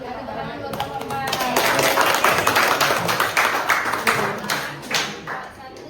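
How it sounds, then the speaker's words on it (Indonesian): A class gives a round of applause for group 4 in a school classroom, lively clapping that swells, then tapers off over several seconds under chatter and talking voices. "Tepuk tangan buat kelompok 4."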